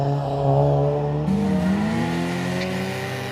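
A Reliance Scimitar GTE with a 3-litre Ford V6 launches from the line at a speed hill climb, its engine note loud and close, rising steadily in pitch as it pulls away.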